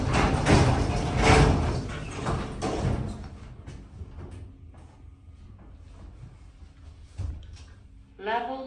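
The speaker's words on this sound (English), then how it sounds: "Doors closing." Lift doors sliding shut in a busy lift at a shopping outlet, a loud rumbling slide over the first few seconds that fades into quieter mechanical hum, with a chime-like tone near the end.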